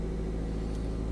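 Car engine idling steadily in first gear with the accelerator held constant during a driving lesson, a continuous low hum and rumble with no changes in pitch.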